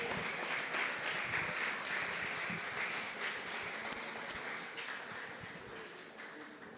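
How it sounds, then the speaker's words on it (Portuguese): A church congregation at a Sunday morning service claps joyfully to the Lord, a dense, steady wash of applause that slowly fades toward the end. "Dê uma salva de palmas bem alegre ao Senhor."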